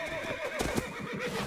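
A horse in a multiplayer video game match gives a short, clear whinny alone, with faint hoofbeat clip-clops underneath.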